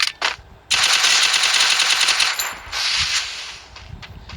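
Rapid automatic gunfire from a shooter in the mobile battle-royale game Free Fire, a dense sustained burst after a couple of short shots, loud and close, tapering into scattered shots.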